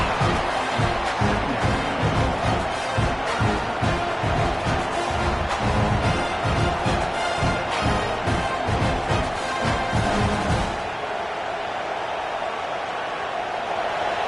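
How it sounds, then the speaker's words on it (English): Stadium crowd noise in an NCAA football video game, a loud constant roar with rhythmic pulsing chants that suddenly drops to a thinner wash of crowd sound near the end. "This crowd trying to make life miserable for this offense."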